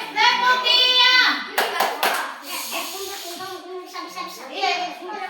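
Children in a classroom chant and clap the short 'tepuk diam' routine, a few sharp claps breaking up their sung voices, close and fairly loud, with the teacher's speech around it.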